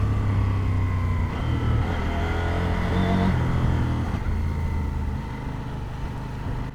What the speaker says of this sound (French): là je descends les vitesses au shifter